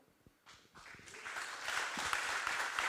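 Applause from an audience after a final pitch at a competition, starting sparse and building into steady, moderately loud clapping.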